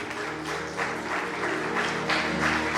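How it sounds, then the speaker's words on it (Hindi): A church congregation at a Sunday service claps in steady, sustained applause, a dense wash of many hands close by with no break. "इन सबके लिए जोरदार ताली।"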